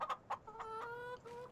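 Chickens clucking in Farming Simulator 25, a few quick close clucks followed by a drawn-out call, heard alone and clearly.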